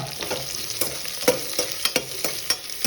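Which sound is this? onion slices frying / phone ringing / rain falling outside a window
onion slices frying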